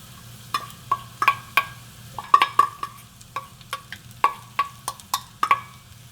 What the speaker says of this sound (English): Garlic, and stir.